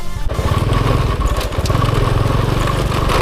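A Honda Supra motorcycle engine idles up close with a steady, loud low chugging throb that continues evenly throughout.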